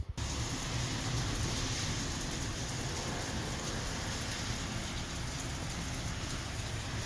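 Rain falls during a rainstorm outside a book, music, movie and video game store, a soft even wash of hissing drops, fairly faint and steady throughout with no talk.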